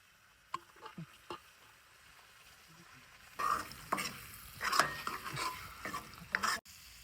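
Mutton bone pieces for mutton sukka frying in masala, first a few faint clinks, then a louder burst of sizzling with close stirring scrapes.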